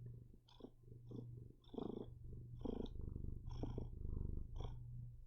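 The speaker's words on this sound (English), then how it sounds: "This guy's a pretty loud purr." A cat purrs loudly and close, with a rhythmic rumble pulsing about once a second as each breath cycles in and out over a low steady hum.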